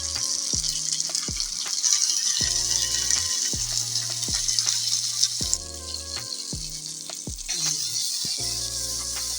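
Dry fish thokku frying in oil gives a steady bright sizzle throughout, under a backing of melodic music with rhythmic low notes; the sizzle dips briefly midway and returns.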